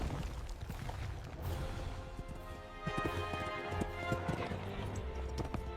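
A horse's hooves clip-clop steadily at a moderate distance in a fairy-tale scene about a knight riding to a cursed castle, with a brief whinny-like sound mixed into the rhythmic beats.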